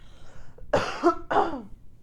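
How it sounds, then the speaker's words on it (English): Two close, harsh coughs in quick succession, loud and alone in a quiet room. "Sorry, I just need to cough again."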